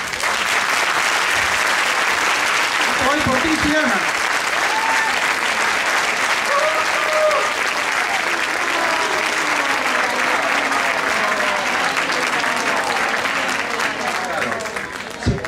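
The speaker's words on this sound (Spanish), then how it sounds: "Un aplauso moi forte." Sustained loud audience applause at a charity gala for Xiana, a continuous wash of many hands clapping across the whole stretch, with voices cheering and speaking over it.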